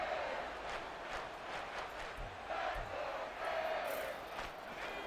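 Stadium crowd roaring in an American football video game, a steady loud wash of cheering with swells, game music faintly underneath.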